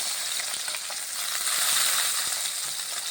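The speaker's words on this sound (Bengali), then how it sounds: "দেখুন বেগুনটাকে আমি ভালোভাবে ভেজে নিচ্ছি।" Squeezed eggplant frying in hot oil for a Bengali dish, a dense continuous sizzle with faint crackles and occasional light stirring, close and steady, no voices.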